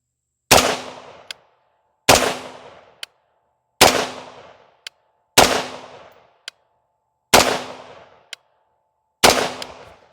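Rifle shots fired at a 10-yard range: six sharp, loud reports spaced about every one and a half seconds, each followed by a short ringing tail and a faint metallic tick, with no talking.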